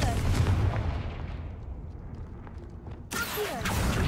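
A Confringo blasting spell going off in Hogwarts Legacy, a loud rumbling burst that slowly fades, then a sharp crack of a second blast near the end.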